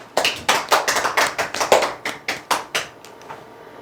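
About a dozen sharp, evenly spaced claps in quick succession, close and loud, then stopping abruptly after a few seconds.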